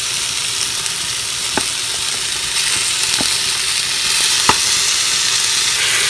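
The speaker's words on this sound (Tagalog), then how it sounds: "Pagkagisa ng mga panakot, ilagay na ang hiniwa-hiwa na balat ng baka." Sliced beef skin for balbacua sizzles loudly and steadily in a pan with sautéed aromatics, a dense close hiss with a few faint utensil taps on the pan.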